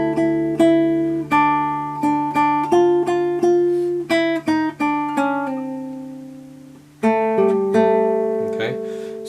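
Guitar picks out a melody's A section as a run of clear plucked notes, some ringing and sliding, ending in a sustained chord, played alone and close.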